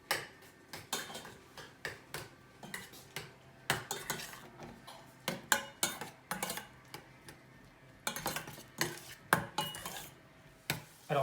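Mushrooms stirred and sautéed in a pan produce a quiet, irregular run of clicks and scrapes as a utensil knocks against the pan over several seconds.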